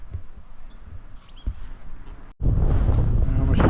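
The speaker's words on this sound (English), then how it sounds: "it's windy and it's noisy" Wind blows across a hilltop coastal lookout near Point Quobba, a light hiss that gives way halfway through to heavy gusts buffeting the microphone with a deep, roaring rumble.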